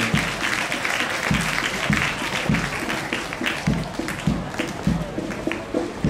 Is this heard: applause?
yes